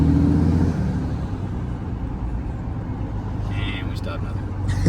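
A 1200HP Cummins diesel truck with a failing engine after the throttle is released, a heavy low rumble that drops from a louder start into a steady drone, with voices talking faintly.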